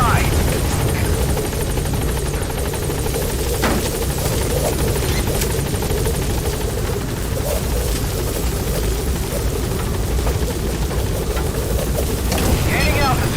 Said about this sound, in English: Gaining altitude.